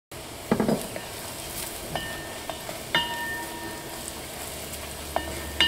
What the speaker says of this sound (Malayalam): ഇപ്പോൾ മഞ്ഞൾപ്പൊടി അതിനകത്ത് കിടന്നിട്ട് നന്നായിട്ട് മുരിഞ്ഞിട്ടുണ്ട്